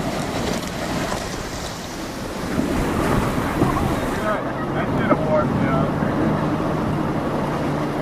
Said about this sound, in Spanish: Los rápidos de la Upper Granite Gorge, uno de los más peligrosos del cañón